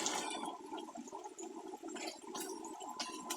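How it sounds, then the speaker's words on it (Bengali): Water is poured into a pressure cooker holding braised layer-hen chicken, giving a steady splashing, gurgling pour that runs continuously for a few seconds at close range with no talking. "সামান্য পানি দিয়ে দেব"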